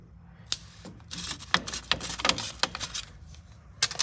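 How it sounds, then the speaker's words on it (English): Metal filter wrench clicking and scraping against the oil filter of a John Deere 455 mower, a run of sharp close taps and clanks spread across a few seconds with a brief burst at the end. "Alright, so I got my trusty filter wrench. Gonna stick it on there and just break it loose."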